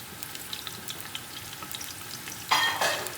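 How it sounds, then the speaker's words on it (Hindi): Sliced onions fry in hot oil for pulao, a soft low sizzle with light ticks that bursts into a louder crackling hiss halfway through. "ये हमने अब इसमें डालने हैं ताकि इसको गोल्डन करें उसके लिए पुलाव के लिए।"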